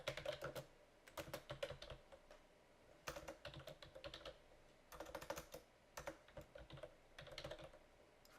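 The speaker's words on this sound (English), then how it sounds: "We'll pick the line and we'll type some text in." Soft bursts of keystrokes on a computer keyboard as text is entered into CAD software, quick clicking runs broken by short pauses, quiet and close.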